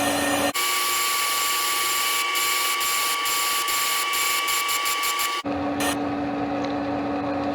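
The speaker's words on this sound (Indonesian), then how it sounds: "Nyalakan mesin, kita potong sebesar 10 mili." A metal-cutting machine runs through a 10 mm cut: a loud, steady whine with a constant high tone, broken by a string of rapid mechanical clicks, starting and stopping abruptly.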